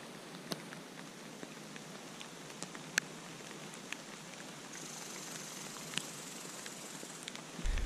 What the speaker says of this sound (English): Well, the rain came.